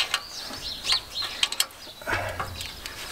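Screw being backed out of the handle of a Swardman reel lawn mower with the onboard tool, giving a string of close, light metallic clicks and ratcheting ticks, with no talking.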